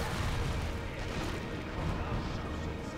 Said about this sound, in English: Oh crap, grenade.